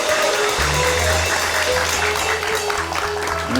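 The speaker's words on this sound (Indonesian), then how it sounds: "Luar biasa, tepuk tangan dulu dong." Loud, dense applause from a live audience at a Palembang stage show, sustained clapping over a low hum with some voices mixed in.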